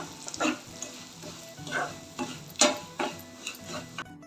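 Rava roasting with cashews, mustard seeds, urad and chana dal, and red and green chillies in oil and ghee in a pan, giving soft frying crackle and a series of scraping stirs of the ladle, close and unaccompanied by talk.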